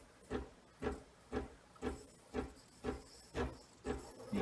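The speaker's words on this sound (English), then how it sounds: "You can hear the machine doing its work, making that water that I put in there into steam." A Breville Cafe Roma espresso machine steaming cold milk, giving a faint, even hiss that pulses about twice a second in a steady rhythm.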